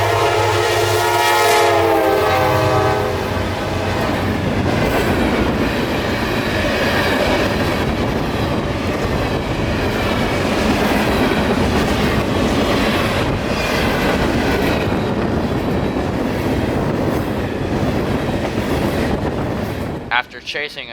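Freight train Q452 speeds past the crossing at Lake Panasoffkee at almost 60 mph, opening with a loud blaring horn, then a long close roar of wagons and rattling wheels that stops abruptly at the end.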